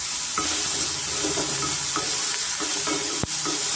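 Onions frying in a pan with turmeric, salt and curry leaves give a steady, close sizzle, broken by scattered stirring scrapes and one sharp knock near the end.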